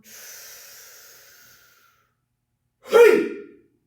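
A single deep, forceful breath during a qigong strength exercise: a soft airy rush fading out, then a pause and a sharp, loud burst of breath, heard alone.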